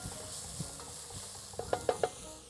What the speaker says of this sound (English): in the pan here, red onions, garlic, chilli and ginger.